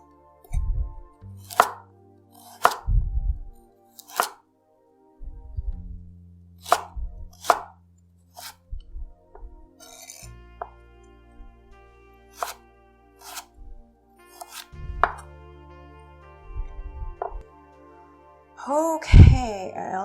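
A knife chopping vegetables into thin batons on a cutting board for a stir fry, a series of sharp, separate close chops with pauses and light handling noises between them, no talk.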